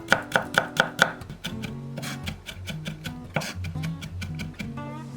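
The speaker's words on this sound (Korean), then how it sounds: "소스에 들어갈 마늘 5개 굵게 다지고" A kitchen knife coarsely chops five garlic cloves on a cutting board, a quick run of sharp knocks followed by steadier, slightly softer chopping, close and alone.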